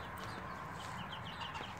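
Faint chickens clucking in the background, soft scattered clucks over a steady low hum.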